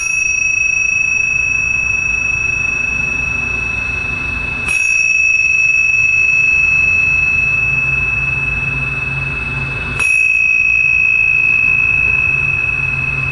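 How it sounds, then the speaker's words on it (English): Tingsha bells are struck twice, several seconds apart, each strike a bright, clear metallic ring that lingers in a long, steady sustain over a low background hum. "tune into the sound of these tingsha bells"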